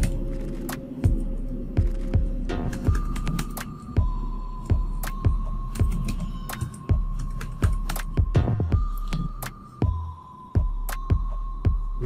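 Password being typed on a computer keyboard, a steady run of close, distinct key clicks over a low electronic hum, with no talking.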